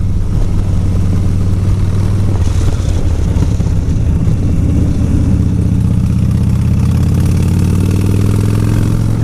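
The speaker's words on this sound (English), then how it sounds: "I do like to throw the bike into corners, like so." A motorcycle engine drones loud and close throughout while the bike is thrown into corners, its steady roar shifting pitch with a rise toward the end.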